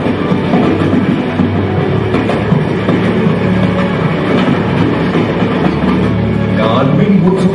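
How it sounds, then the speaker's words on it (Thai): A Thai railway locomotive on a test run rumbles across a bridge near Ratchaburi, its loud steady roar and rhythmic wheel clatter filling the scene, with a voice faintly mixed in. "รถจักรของการรถไฟไทยมาทดลองวิ่ง เริ่มตั้งแต่หัวสะพานฝั่งด้านเมืองราชบุรี"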